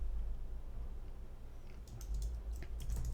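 Soft keyboard tapping while HTML and CSS code is written on a computer, a brief cluster of light clicks over a low steady hum, faint and close.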